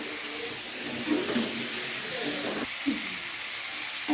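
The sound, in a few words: potatoes and pointed gourd sautéing in a pan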